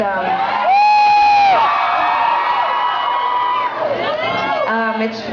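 A concert crowd screams and cheers loudly for several seconds, a sustained wall of high whoops and yells that dips and rises again near the end.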